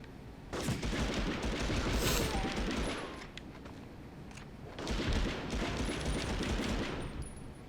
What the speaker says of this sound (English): Let's pull this SMG out